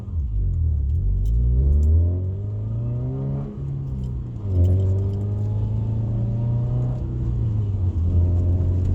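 A Saab 9-2X accelerates from first up through roughly third gear at moderate revs with the windows up, its engine hum rising in pitch, dipping at each gear change, then climbing again, steady and close inside the cabin.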